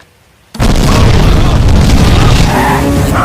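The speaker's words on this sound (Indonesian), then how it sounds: "di rumah menteri terjadilah ledakan dan membuat semua orang tewas" A loud film explosion at a minister's house bursts in abruptly after a brief near-silence, then a sustained roaring blast and rumbling debris fill the rest of the moment.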